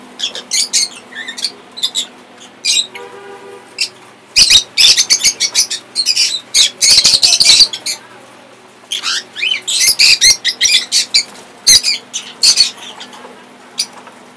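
A lutino pearl cockatiel held in a hand lets out loud, harsh squawks in repeated bursts with quick wing flaps in between, close up and with no other sound.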